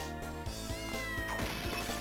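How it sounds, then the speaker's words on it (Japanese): A cat meows in the video game Castlevania: Order of Ecclesia. A short meow rises over steady game music and rhythmic in-game sound effects, at low volume. "なんか猫がいる"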